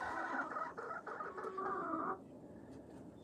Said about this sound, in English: Live video on my chickens.